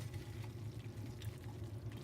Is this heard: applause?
no